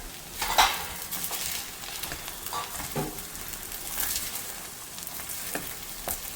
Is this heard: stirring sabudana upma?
yes